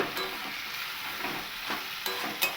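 Cauliflower sautéed with spice paste and peas in a karai for a Bengali aloo fulkopir dalna, a continuous close sizzle broken by a few louder stirring scrapes, no talk.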